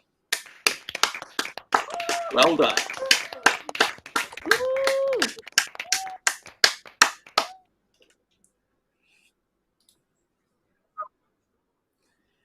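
Graduates on a law and politics video call unmute to clap and cheer for about seven seconds, a choppy mix of separate claps and whooping voices that stops abruptly, followed by near-silence and a brief spoken congratulation.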